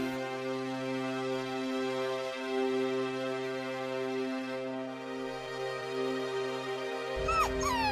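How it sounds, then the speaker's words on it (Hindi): An injured dog, lying bloodied in bushes with a deep leg wound, whimpers in a long, steady, quavering whine, close and continuous, followed by a few sharp yelping cries at the end. "वहाँ एक कुत्ता खून से लथपथ पड़ा था।"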